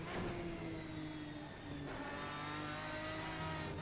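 A simulated Aston Martin DBR9 race car engine howls at full speed around Misano World Circuit in a racing game, a steady loud high-revving drone with a brief dip mid-run before climbing again.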